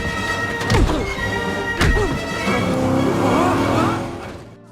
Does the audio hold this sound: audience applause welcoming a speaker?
no